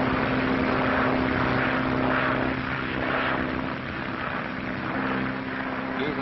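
Propeller airplane engine droning steadily in flight in a 1937 transatlantic setting, a continuous loud hum with a slight rise and fall, with no voices.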